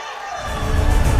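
Crowd applause and cheering swelling up at an open debate between regent and vice-regent candidate pairs in Takalar Regency, loud and building toward the end.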